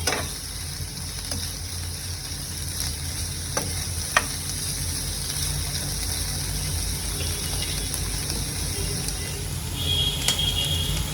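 Ivy gourd (tendli) frying in oil in a kadhai over medium-low heat, a steady close sizzle with occasional stirring scrapes and clinks, no voices over it.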